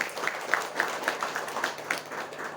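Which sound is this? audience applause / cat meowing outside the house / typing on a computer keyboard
audience applause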